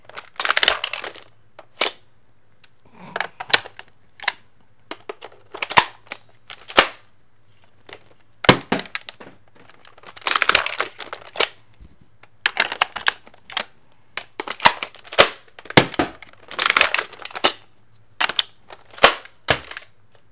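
Nerf Sledgefire blaster firing a burst of three darts, heard as sharp percussive snaps and clacks of pumping and shooting, repeated in irregular bursts at close range with no talking.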